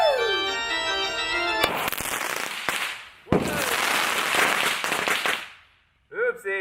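Fireworks going off outdoors: a rising whistle, then loud crackling bursts and sharp bangs in quick succession, ending in a fizzing whistle, with a voice heard partway through.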